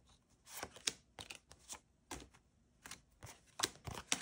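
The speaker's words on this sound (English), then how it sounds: "I'm just going to shuffle and we'll just throw down a couple cards" A deck of tarot cards is shuffled by hand up close, with quick riffling bursts and soft slaps repeating in uneven rhythm, quiet and crisp with no talking.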